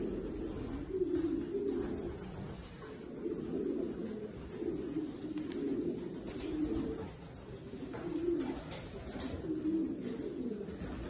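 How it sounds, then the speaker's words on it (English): Steady pigeon cooing with repeated low rolling coos throughout, moderately close, from a strong-bodied white racing pigeon, alone without talk. "It's a very strong pigeon."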